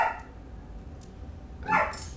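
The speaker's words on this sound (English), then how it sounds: "I have a little dog barking upstairs" A small dog barks upstairs, sounding muffled and somewhat distant, with two short bursts of barking about a second and a half apart.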